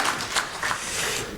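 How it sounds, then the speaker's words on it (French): Short burst of audience applause at a composers' professional colloquium, steady clapping from a mid-sized crowd lasting just over a second, no talk over it. "C'est pour mon retard, ces applaudissements, je sais bien."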